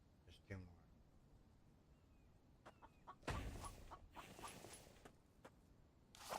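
A chicken in the survival video game The Infected clucks a few times, fairly quiet and intermittent, among scattered in-game noises, with a louder rustling burst midway.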